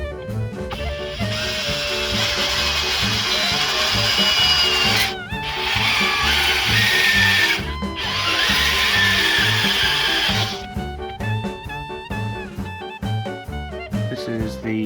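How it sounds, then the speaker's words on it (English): A power drill bores through the plastic light housings of an early 2000s car to mount side view cameras, running in long steady whirring bursts with short pauses between them, loud and close. "now it's time to drill these guys out and mount the side view"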